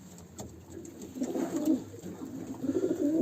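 Pigeons coo softly and repeatedly nearby, low throaty calls rising and overlapping in a continuous murmur with faint high ticks above.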